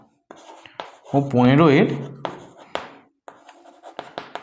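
A pen writes on paper during a math lesson, making sharp scratchy strokes and taps between and under a person's speech, with one longer stretch of speech in the middle.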